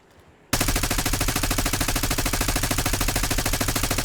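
A minigun fires in a video game, a loud, continuous rapid-fire roar that bursts in suddenly after a quiet moment and holds steady without a break.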